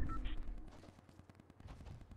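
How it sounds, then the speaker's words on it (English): Gunfire in a Fortnite match, a run of evenly spaced shots crackling at moderate distance, fairly quiet, with a brief clatter of other game sounds at the start. "I'm hearing these shots"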